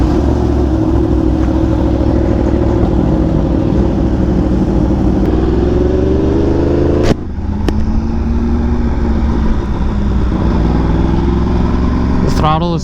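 A BMW M1000RR motorcycle engine drones steadily while riding, pitch rising and falling with jerky throttle, loud and close, with a couple of sharp clicks and a brief dip partway through.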